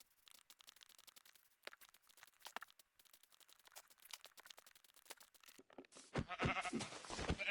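Sheep in Minecraft survival gameplay bleat faintly among soft crunching and clicking, then a louder burst of rough, wavering bleats sounds close near the end.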